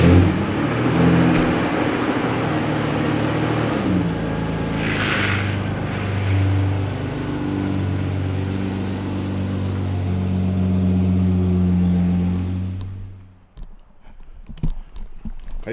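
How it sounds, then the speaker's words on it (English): A car engine hums and revs steadily at close range as the car is driven out of a shop, then cuts off near the end, leaving scattered quiet knocks and shuffles. "we got to get this car out of the shop"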